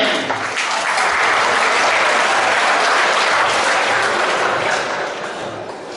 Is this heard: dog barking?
no